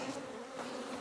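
Feisty honeybees swarm at an open hive during a colony check, a dense continuous buzz close by at steady, fairly quiet level with no talking.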